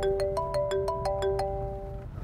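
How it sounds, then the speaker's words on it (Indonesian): A mobile phone ringtone plays a quick, repeated electronic melody of bright tonal beeps, moderately loud and close, with no talk over it. "Itu siapa yang telepon?"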